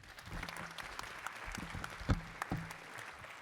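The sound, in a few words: audience applause for a speaker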